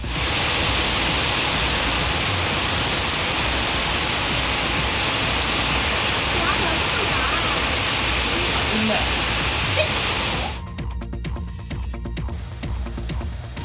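Heavy rain pours steadily in Karaikudi, Sivaganga district, a dense, loud hiss that holds for about ten seconds before cutting abruptly to a quieter background.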